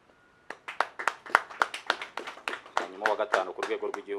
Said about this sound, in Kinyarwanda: amashyi yakomeje kurumba n'ababeguye.